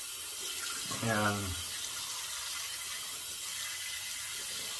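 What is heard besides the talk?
hot water running from tap into shaving bowl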